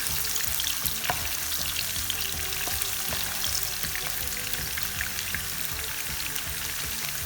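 Half a cup of chopped onion frying in a pan for cauliflower roast, a constant dense sizzle with tiny crackling pops throughout, close and even, no talking.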